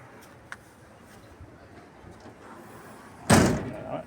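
Door of an Isuzu C240 double cab jeep slamming shut, one loud close thud after a quiet stretch with faint ambient noise and a small earlier tap.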